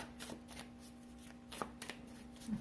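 Tarot cards riffled and shuffled in quick bursts of crisp flutter, close and fairly quiet, with a faint steady hum beneath.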